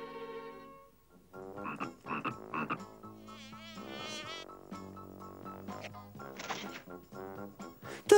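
A cartoon frog in a Smurfs episode gives a run of loud, close croaks and warbling calls, broken by short pauses and rising to a sharp sound at the end.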